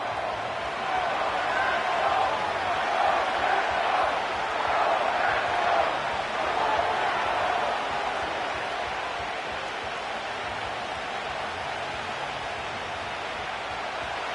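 Stadium crowd noise in the Madden 25 football video game, a broad roaring wash that swells ahead of a goal-line down and then settles to a steadier murmur.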